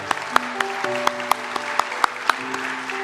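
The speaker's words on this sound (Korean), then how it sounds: "우리 같이 수료하신 우리의 1:1 양육자 동반자를 축하 박수를 드립니다." A church congregation claps during a Sunday worship service, a steady patter of hands with sharp individual claps standing out, fairly distant and mid-level, with no one speaking over it.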